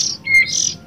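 A kacer (magpie-robin) gives short, loud, close chirps and whistled squawks in quick succession, heard alone without any talk.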